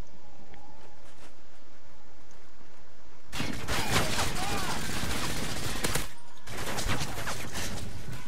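Automatic gunfire in the first-person shooter Modern Warfare 3 during online multiplayer: a dense, loud, rattling burst of rapid shots lasting about three seconds, a brief pause, then another sustained burst.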